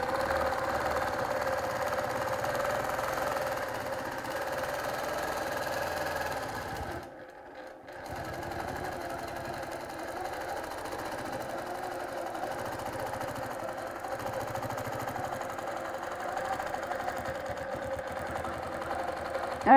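A sewing machine stitching in the ditch on a quilt guided by a slotted ruler, running in a steady mechanical whir with one brief pause partway through before starting up again.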